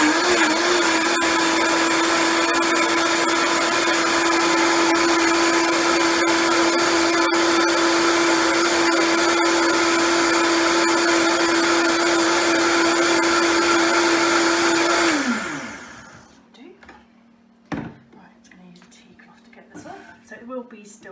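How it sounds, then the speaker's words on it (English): A powerful blender roars steadily at high speed blending nettles for about fifteen seconds, then winds down and stops, followed by a few faint clinks. "I'm going to blend it and see how it comes out."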